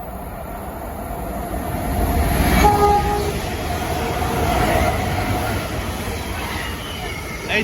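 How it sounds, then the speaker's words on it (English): An Avanti West Coast Pendolino train passes at Harrow & Wealdstone or Watford Junction, a loud, steady rolling rush that swells and fades with a brief horn-like tone partway through, and a voice speaking faintly. "the next train to pass by will be another Avanti West Coast of Vero."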